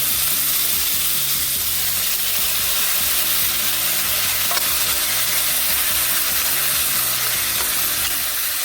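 Ridge gourd bhaji with turmeric, onion-garlic masala, red chilli, coriander powder and garam masala being stirred and sautéed in a pan, a steady close sizzle with soft scraping and stirring throughout, no talking.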